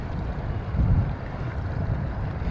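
A boat's engine running close by while the vessel sits aground in shallow water, a steady low rumble mixed with wind buffeting the microphone, with no talking.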